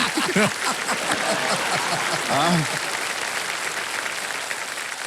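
Studio audience of a TV game show clapping in a broad, steady wash of applause, with a voice and laughter rising briefly over it near the start and middle.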